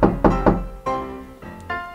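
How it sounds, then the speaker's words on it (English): Three loud, evenly spaced knocks on a front door, followed by a creak as the door swings open, with no voices. "Goldilocks knocked loudly on the front door."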